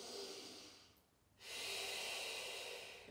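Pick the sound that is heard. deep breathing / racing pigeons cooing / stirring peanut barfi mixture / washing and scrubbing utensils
deep breathing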